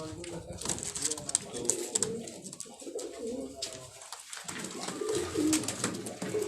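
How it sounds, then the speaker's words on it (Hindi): Pigeons coo softly and repeatedly on a Karachi rooftop under a steady outdoor murmur, with low calls surfacing every second or so against background chatter. "चलिए ये कबूतर भी देखें माशाल्लाह से"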